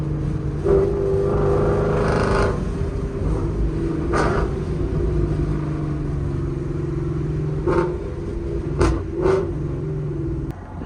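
A loud Mustang GT 5.0 rumbles steadily from inside the cabin, its engine droning under acceleration, with brief clattering breaks that fit quick gear changes.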